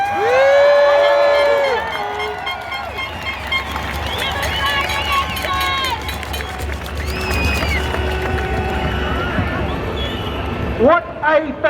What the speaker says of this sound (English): What a fantastic crowd.